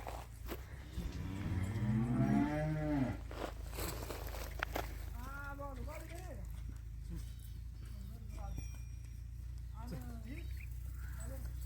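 A calf from a household cow moos loudly and close by, with a drawn-out call early on and shorter moos afterward. People talk over a steady low background hum.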